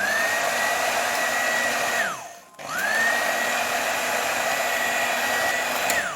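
An electric hand mixer whips cream with a splash of cold water, a steady loud motor whine that winds down briefly to a stop, then spins back up and runs on evenly, alone with no talk.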